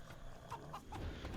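Soft, repeated clucks of chickens in the Age of Empires II strategy game, faint and spaced a few times over a low game background.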